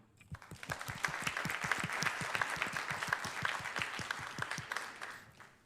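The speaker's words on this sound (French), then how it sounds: "je pense qu'on peut l'applaudir" Audience at a forum on plant-based sustainable food applauds, a dense burst of hand claps that swells quickly, holds steady for several seconds, then tapers off.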